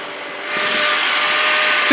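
A 2009 Honda Accord's 2.4 liter K24 four-cylinder engine running at a cold start under the open hood, a steady broadband whir that grows louder after half a second and holds evenly close by.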